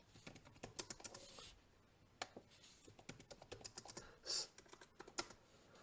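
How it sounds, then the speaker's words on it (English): Close, quiet typing on a computer keyboard, a quick irregular run of light key clicks with short pauses and one brief louder burst near the end. "So I would just type DOM tutorial is"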